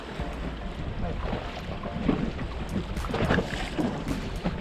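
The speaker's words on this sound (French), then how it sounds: "Il y a un peu plus de vent que prévu" Steady wind gusting across open sea from a boat during sea bass fishing, a continuous broad rushing roar with buffeting against the microphone and no talk.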